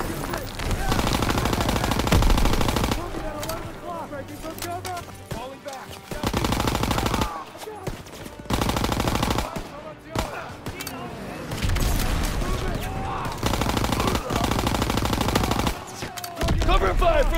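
Bursts of gunfire and machine-gun fire in the World War II shooter Call of Duty WW2, loud and near, rattling in repeated volleys with short pauses between them, while voices talk and shout throughout.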